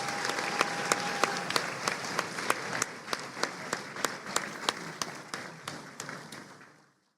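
An audience at an athletic association hall of fame induction, held at a boys basketball game, claps in honor of the late Freddie Ballou, with sharp individual claps standing out over a wash of applause that tapers off at the end.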